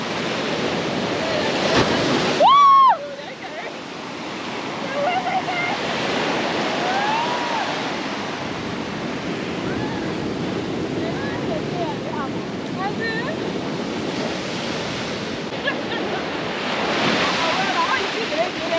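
Ocean surf rolls onto the Liberian coast in a continuous, close, loud wash with wind buffeting the microphone. A voice speaks briefly near the start.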